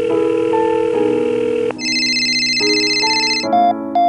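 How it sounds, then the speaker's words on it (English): A phone ringing in the Roblox game Brookhaven, a loud electronic ringtone with repeating tonal patterns that shift through several steady beeping phrases, close and clear with no talk. "Why Jenna doesn't pick up the phone"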